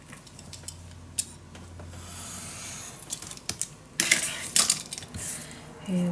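Scrapbook paper being cut for a mini album page, heard as soft scraping and snipping with scattered clicks and rustles that grow louder and denser toward the end.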